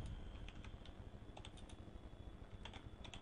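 Keystrokes on a computer keyboard come in short bursts of clicks separated by pauses, close and fairly quiet over a steady room hiss, with nobody speaking.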